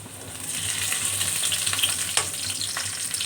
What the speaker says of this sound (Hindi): और इसको भी हम इसमें 2-3 मिनट लहसुन की भी इसमें सही से भुनाई करेंगे।